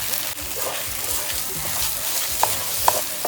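A salt cod mixture for Antillean boudin frying in oil, with a continuous close sizzle, occasional stirring scrapes and a couple of small clinks.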